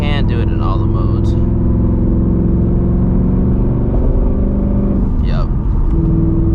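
A 2024 S650 Ford Mustang GT's V8 holds a loud, steady rev in launch control, a dense low drone that shifts in pitch near the end, with voices briefly over it.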